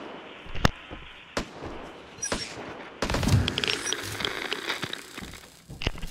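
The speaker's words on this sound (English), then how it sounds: "That sounds just like fireworks." Rapid popping bursts like fireworks or gunfire in an online shooter game, a few sharp isolated cracks followed by a denser, crackling volley, fairly loud with no talk over it.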